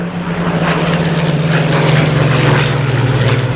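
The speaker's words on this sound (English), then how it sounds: "Two-speed supercharged Merlin engine" Spitfire fighter with a two-speed supercharged Rolls-Royce Merlin engine droning steadily overhead at an airshow, a loud continuous propeller roar with a sustained low engine tone and no talk.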